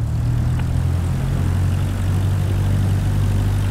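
Steady, loud propeller drone of a Cessna light aircraft engine idling as it taxis to general aviation parking, a constant low rumble throughout with no talk.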